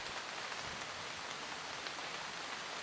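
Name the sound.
raindrops falling on a truck camper roof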